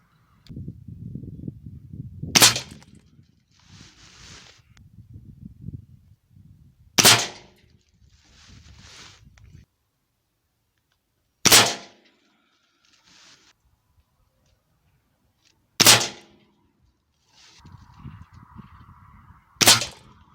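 Air rifle shots from an HW97KT firing pellets at a 25 m target: five sharp, loud cracks spaced about four to five seconds apart, with quiet handling rustle and faint background noise between them.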